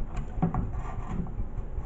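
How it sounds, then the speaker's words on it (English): A wooden drawer slides out of a 1960s chest with a short scraping, knocking rub of wood on wood, close and moderately loud, then some lighter handling noise. "So the plan is to take out the drawers,"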